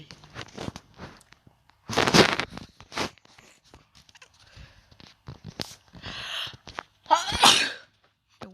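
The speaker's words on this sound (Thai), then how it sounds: "จามวะเนี่ย" Several sharp, loud sneezes burst out one after another at close range, separated by quieter gaps with some rustling and breathy sounds, and no clear talk.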